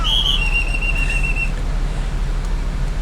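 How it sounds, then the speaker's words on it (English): A single shrill whistle blast sounds briefly over a steady low bus engine rumble, then only the rumble continues. "So he's blowing his whistle."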